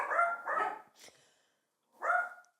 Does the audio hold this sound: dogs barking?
yes